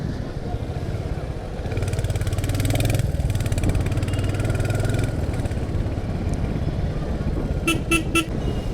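A Royal Enfield Hunter 350 motorcycle rides along a road with steady engine and wind rumble, a passing vehicle's horn sounding briefly, then several quick beeps of a horn near the end while overtaking.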